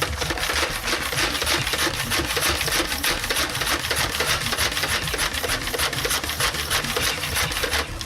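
Rapid rhythmic pumping of a vintage Nerf Airjet Rapid Fire 20 air blaster, many quick scraping strokes in a steady, even cadence, close and loud with no talking.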